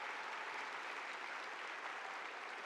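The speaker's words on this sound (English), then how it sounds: "Let's give him a round of applause for being back at MBA." Applause at a school assembly as students welcome a returning visitor, a steady, even wash of many hands clapping, fairly quiet and continuous throughout.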